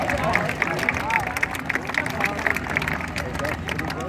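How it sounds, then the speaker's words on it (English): Crowd applause and cheering at a BMX stunt show at a Long Island fair, clapping and chatter mixed with a mid-distance announcer-style voice and bursts of crowd noise, lively and continuous. "Let's give them a big round of applause."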